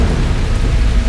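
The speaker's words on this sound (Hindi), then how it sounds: "वर्षा, ये तो अशुभ संकेत है।" Heavy rain and thunder, a dense continuous downpour with a deep low rumble underneath, loud and steady with no voices.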